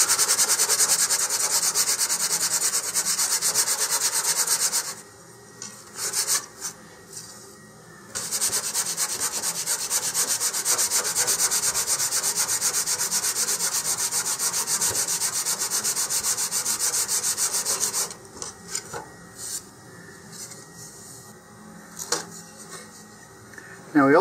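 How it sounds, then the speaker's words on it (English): Steady, continuous hand sanding of a wooden model rocket part, a rough scratchy rubbing that stops briefly a couple of times and resumes, with a few light knocks near the end. "Now we also need to sand the edges once more."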